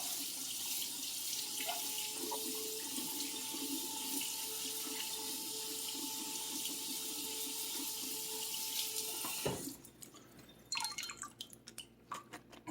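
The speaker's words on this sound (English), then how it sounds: "Then you can just take it and run it under the water." Leeks rinsed under a running kitchen tap, a steady broadband water rush filling most of the stretch, then breaking into sputtering splashes and drips near the end as the flow is interrupted; no talking.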